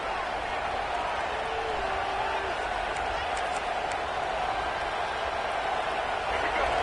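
Steady crowd roar fills a college football stadium during a Tennessee versus Auburn game, a constant wash of noise with no clear breaks, while a voice talks over it.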